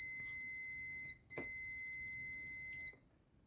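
A multimeter's continuity beeper sounds during in-circuit testing of a 32-inch TV power supply board: two sustained, steady electronic tones with a short gap between them, fairly quiet and with no talk.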